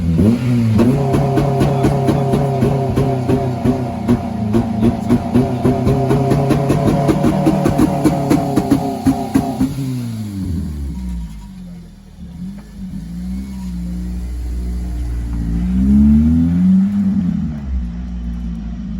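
A tuned Honda Civic FN2 Type R engine revs loudly in first gear, holding a high steady note for about ten seconds before dropping back to a lower, fluctuating idle.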